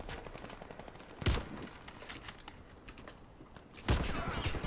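Warface gunfire comes as two sharp, distant-sounding shots a few seconds apart, set against a faint clatter of keyboard typing and background game noise.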